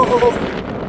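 Strong wind buffets the microphone near the summit of Skirrid Fawr, a loud, rough roar that eases slightly toward the end, with a voice briefly heard.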